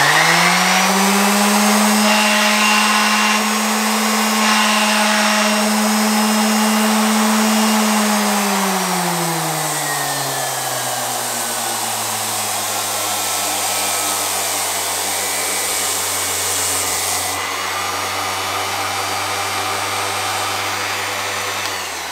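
An eccentric orbital sander grinds paint off a door, a loud continuous whirring drone that drops in pitch partway through as it bears down on the surface, running alone without talk.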